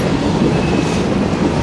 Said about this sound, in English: there's a train going right now